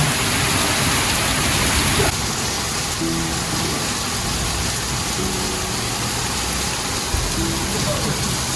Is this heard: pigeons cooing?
no